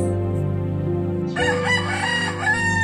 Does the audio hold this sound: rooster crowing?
yes